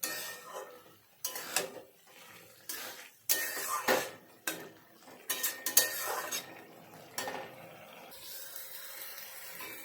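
Spoon scraping and clattering against a pan while cabbage is stirred with garam masala, in irregular bursts of metallic knocks over a soft frying hiss, fairly close and moderately loud, with no voices.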